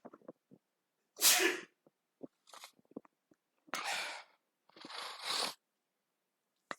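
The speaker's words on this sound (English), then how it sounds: "And I'm going to sneeze." A person sneezes loudly and close by, in a few sharp bursts separated by short quiet gaps, with faint clicks of computer-game play between them.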